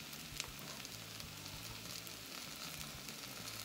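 Onions frying soft in a pan, a steady close sizzle and crackle running throughout with faint occasional stirring and no voices.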